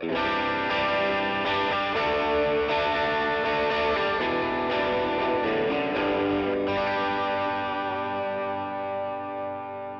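An electric guitar played through the second channel of an overdrive pedal on a budget pedalboard, giving a thick, sustained distorted tone that rings steadily and loud, alone with no talking, before fading slightly at the end.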